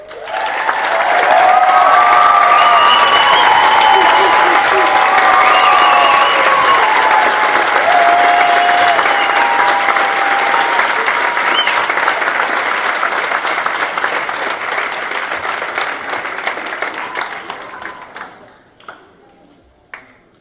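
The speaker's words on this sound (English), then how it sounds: "Will your parents please rise for a round of applause?" Sustained applause from a graduation audience honouring the parents at a 2018 academy ceremony, loud and even for most of the span with faint ringing tones mixed in, then tapering off and fading out near the end.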